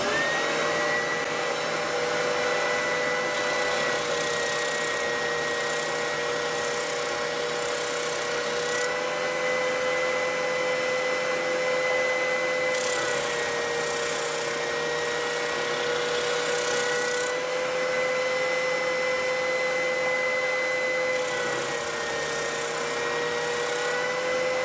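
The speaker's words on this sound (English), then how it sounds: "Right, got the spindle sander set up now. We'll just sand them down to the lines now." A spindle sander whines steadily as it shapes scrap wood pieces down to marked lines, a loud continuous motor tone with brief rises in hiss as the wood is pressed against the drum.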